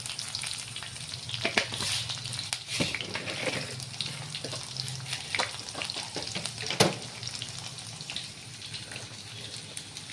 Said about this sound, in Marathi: थोडं जिरं टाकायचं थोडी राई टाकायची